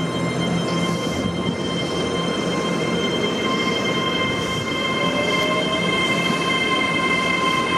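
A train pulling away from a platform at Peterborough station, a loud steady rumble of wagons with thin wheel squeal and faint clicking over the rails, continuous and close, with no voices.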